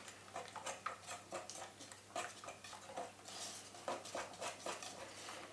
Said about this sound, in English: Put your eggs in. Whisk it around.